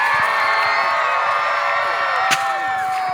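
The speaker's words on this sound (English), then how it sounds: "cheer loud, cheer hard!" A crowd at a Renaissance fair joust at Conner Prairie cheers and whoops continuously, with loud shouting voices and one sharp crack near the end.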